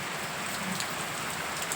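Steady rain falls on surfaces outdoors, a dense, even patter that continues alone at moderate level without talk.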